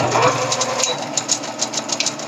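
A sewing machine stitches a backstitch on a romper seam, a steady close mechanical whir with a fast needle chatter and small pulses of speed, heard alone without talk.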